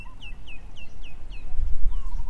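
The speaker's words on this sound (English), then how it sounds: "You can hear some birds calling in the distance." Birds calling at a distance in a rocky ocean-side setting, with a repeated series of short, descending chirps in a loose rhythm over a low, rumbling wash of water and wind.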